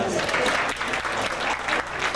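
Audience applause at a health lecture before intermission, a thick, continuous burst of many people clapping, fairly loud and steady with a faint voice mixed in.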